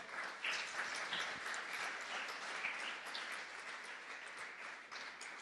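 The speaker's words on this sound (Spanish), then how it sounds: "dale un aplauso al Señor." A church congregation applauds together during a sermon, a continuous wash of many hands clapping at moderate distance that holds steady for several seconds without speech.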